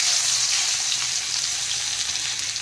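Grated garlic sizzles steadily in hot oil, a dense, even crackle of light frying that stays close and continuous without any talking.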